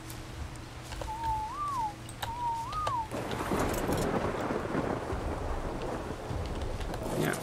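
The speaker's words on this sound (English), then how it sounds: "it starts to rain again" Heavy rain sweeps in halfway through, a dense steady wash in a modded ARK game, following two rising-and-falling synthetic bird-like whistles over a low hum; no distinct thunder crack stands out.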